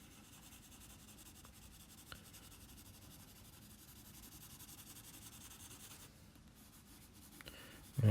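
Pencil drawing back and forth on paper, a steady soft scratching and rubbing that continues evenly throughout, fairly quiet and close, with a brief louder scrape near the end.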